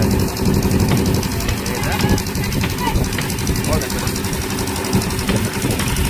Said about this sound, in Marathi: हे बा ट्रॅक्टर चालू होते कसं लोड टाकतं बा.